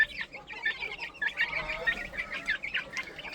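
Hens cluck continuously close by in a small flock, with busy overlapping calls and soft squawks and no human voices.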